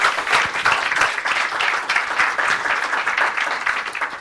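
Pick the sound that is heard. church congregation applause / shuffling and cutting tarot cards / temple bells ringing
church congregation applause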